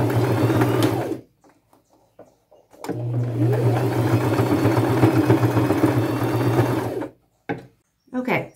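A sewing machine makes a quick stitch over the top of a fringe bag to stop fraying, whirring in two close bursts separated by a quiet gap, with faint handling noises at the end.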